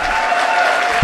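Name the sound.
audience applause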